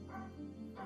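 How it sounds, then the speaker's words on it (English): A dog barks faintly in the background, two short yips close together and quiet, with no talking over them. "Sorry if you can hear some barking."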